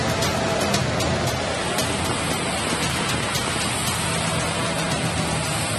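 Heavy, continuous rain pours down during a spell of flooding weather, a dense, even roar with no breaks and no voices.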